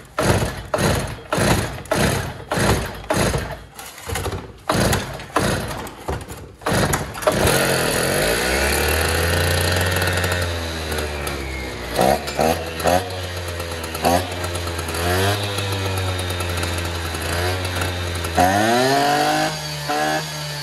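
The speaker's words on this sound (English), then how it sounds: "this thing's gonna take a hell of a lot of pulls to get started" A Stihl TS400 cut-off saw takes a series of sharp rhythmic pull-start tugs, then fires and runs with a loud, steady two-stroke drone that rises in pitch near the end.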